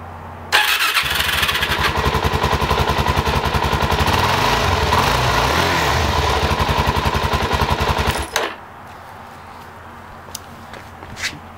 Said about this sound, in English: I'm just going to switch on the motorbike to see if it's all working okay.